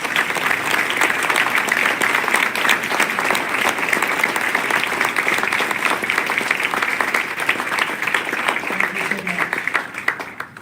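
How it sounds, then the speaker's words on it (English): An audience applauds the search committee at a college presidential announcement, a dense, even wash of clapping that holds steady for about ten seconds before thinning out. "May we give a round of applause for the opportunity"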